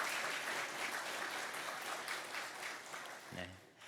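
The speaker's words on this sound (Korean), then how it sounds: "큰 박수로 환영해 주시기 바랍니다." Church congregation applauding to welcome a visiting missionary during a worship service, a fairly quiet, steady clatter of many hands that fades as a voice begins speaking near the end.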